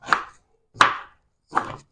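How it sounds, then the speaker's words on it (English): A knife chops fresh garlic on a board: three separate crisp chops, evenly spaced about three-quarters of a second apart, close and clear with silence between them. "So I'm going to chop up some garlic."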